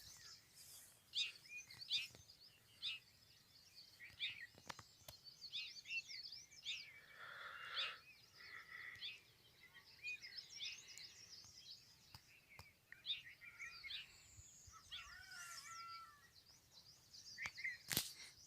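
Faint birds call and chirp intermittently in a quiet outdoor setting in Meghalaya, scattered short tweets at a distance with soft background ambience.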